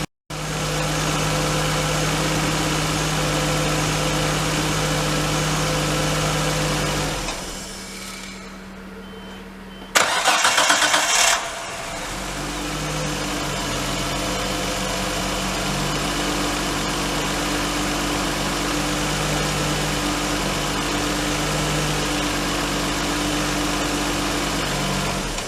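A Nissan R32 Skyline's RB20DE engine idles steadily and loud, cuts out briefly, then restarts with a sharp burst and settles back into a constant idle hum.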